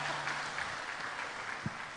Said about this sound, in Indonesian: Tepuk tangan untuk wanita yang sangat peka